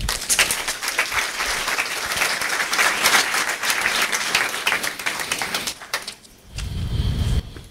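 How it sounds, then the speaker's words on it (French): Dense, loud audience applause at a conference fills the room steadily for several seconds, then thins and briefly drops before a short final burst of clapping. "On peut les applaudir."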